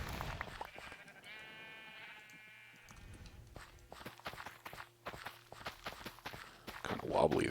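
Sheep bleat in the Minecraft video game, a wavering bleat near the start amid footstep-like clicks and thuds, with another sound flaring at the end.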